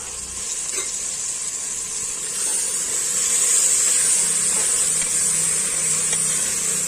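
Cooked mutton goes into a pan of frying onions and tomatoes for a mutton biryani, giving a steady close sizzle and hiss that swells slightly partway through.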